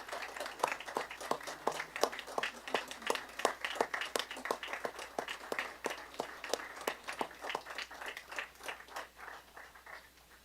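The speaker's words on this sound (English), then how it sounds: "So let's give her a round of applause," A round of applause at a city council meeting, many hands clapping in a dense, uneven patter that stays steady and then thins toward the end, heard at moderate distance.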